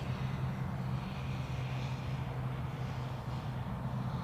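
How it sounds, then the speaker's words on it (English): A Boeing 767 at Zurich Airport gives off a steady, even engine drone with a low rumble, heard from a distance and holding constant throughout without any voices. "let's focus on this 767, shall we?"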